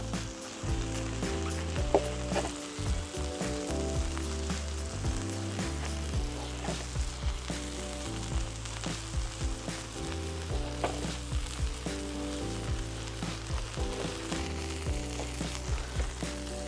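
Burger patties frying on a Blackstone flat-top griddle, a steady close sizzle with scattered pops and crackles running throughout, no talking.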